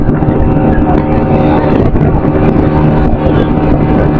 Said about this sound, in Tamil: ஸோ ஸ்பீட் போட்ல தான் போயிட்டு இருக்கோம்.